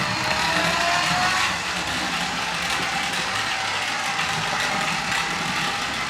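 A voice-command remote-control toy car drives forward, its small motor whirring loudly and steadily up close. The pitch slides slightly and there is a faint ratcheting texture, with no voices.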